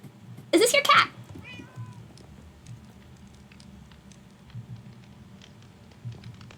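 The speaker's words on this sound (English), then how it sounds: "Is this your cat?" A cat in a Minecraft multiplayer game gives a single short meow near the start, followed by a quiet rising mew, with faint game ambience underneath.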